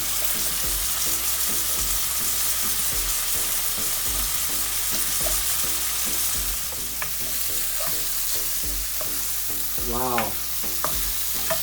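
Peppers frying with cooked onions in a pan for chicken jalfrezi, a loud constant sizzle with rhythmic stirring knocks and scrapes throughout, and a brief spoken exclamation near the end.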